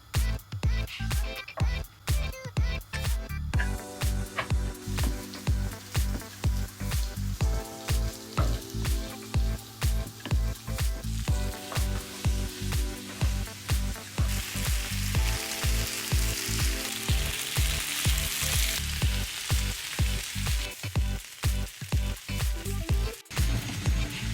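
Flour-dusted oxtail sears in hot oil for a Jamaican oxtail dish, a loud continuous sizzle with a run of sharp crackles and pops throughout.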